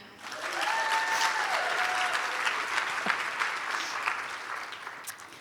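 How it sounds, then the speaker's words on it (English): An audience applauds steadily for several seconds, a dense wash of clapping that fades slightly toward the end, with a faint voice underneath. "Y'all clap for them."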